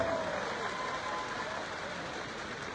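A church audience applauds in a steady, dense wash of clapping that continues throughout without pause, fairly loud and even, with no voices standing out.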